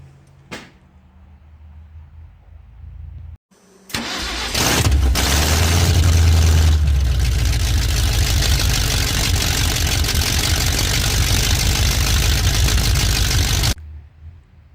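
A 1971 Ford F250 Ranger Camper Special's 390 FE V8 is started for the first time after sitting. A brief quiet thump comes first, then a loud, steady close-up roar that runs for about ten seconds and cuts off abruptly.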